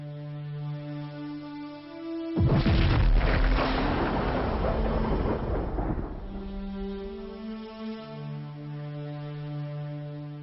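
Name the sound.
explosion of a star, supernova sound effect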